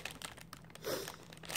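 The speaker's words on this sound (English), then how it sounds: "Sorry about the crinkling." Plastic packaging crinkling and rustling in brief bursts close by during a shopping haul, with no talking.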